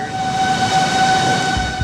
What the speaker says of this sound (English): Tornado sirens once again going off in Joplin.